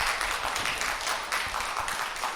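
A church congregation claps in encouragement at a Sunday afternoon service, a brief dense burst of applause from many hands filling the room.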